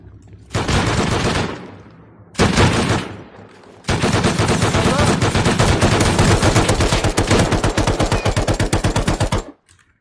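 Automatic turret fire in the video game Rust during a raid: two short rattling bursts followed by a long, loud, sustained stream of rapid shots that cuts off abruptly near the end.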